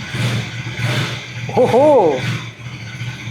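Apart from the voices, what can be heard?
KTM 250 Adventure motorcycle starting, exhaust note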